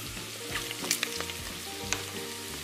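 Pork belly with caramelizing sugar sizzles inside an electric rice cooker for red-braised pork, giving a close, continuous crackling hiss with small pops over a steady tonal background.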